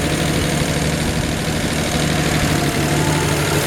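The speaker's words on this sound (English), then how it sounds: "We'll listen to the engine real quick and then turn it off" A 1966 Ford F100 engine idles with the choke partly on while still cold, giving a steady, loud, close rumble with a constant low hum and faint mechanical ticking throughout, and no talking.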